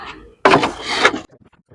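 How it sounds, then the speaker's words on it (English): A plastic trim panel is pushed back onto a BMW X5 front door, giving one short, loud clattering snap of clips seating, followed by a few faint ticks and near silence. "So I'm going to just put this panel back on now."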